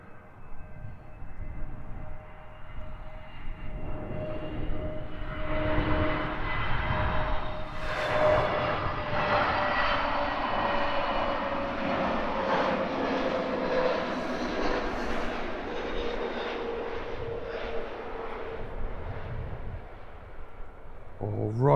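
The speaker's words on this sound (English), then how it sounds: "Right on the numbers. Beautiful touchdown." A FedEx cargo plane touching down at Edinburgh Airport builds into a broad, rushing jet roar that swells and holds for many seconds before easing off, with voices talking nearby.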